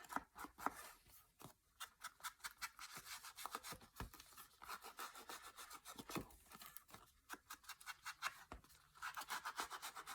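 An ink pad rubbed repeatedly onto a paper page makes quick, dry scratchy strokes in an irregular rhythm, close and fairly quiet, with no talking.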